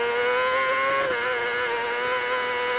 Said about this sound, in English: you hear the vibration of the bike here on the revs as we go over these bumps